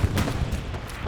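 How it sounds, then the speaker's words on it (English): Deep mortar boom with a rumbling low-end roar in the tactical shooter Hell Let Loose, filling the moment loudly and continuously. "the mortars have this deep boom while a cloud of smoke and debris shoot up into the air"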